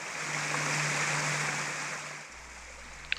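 A small stream of running water in Pine Creek Canyon, Red Rock Canyon, Nevada, gives a steady, close rushing wash that thins out partway through, followed by a brief knock near the end.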